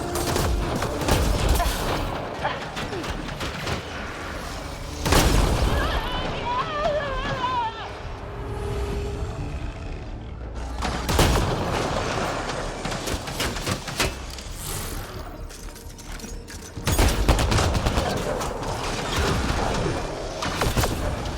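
Game gunfire from Mass Effect: Andromeda, with dense bursts of shots in several loud waves over a continuous battle din, and voices shouting beneath the shooting.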